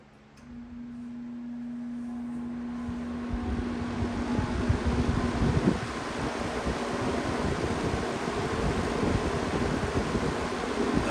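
Metal-bladed box fan spinning up to high speed, a low hum rising into a steady, loud rushing whoosh of air that holds to the end.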